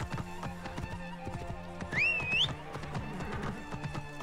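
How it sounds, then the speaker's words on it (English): A horse in Assassin's Creed Origins gallops with steady clip-clop hoofbeats and lets out one shrill, wavering neigh partway through, loud and close, with no talking. "Get on that horse."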